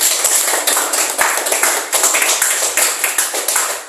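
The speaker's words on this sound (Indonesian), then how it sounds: "Mari kita tepuk tangan." Classroom applause from a group of students, a dense stretch of overlapping hand claps with sharp, steady transients, fairly loud and close throughout.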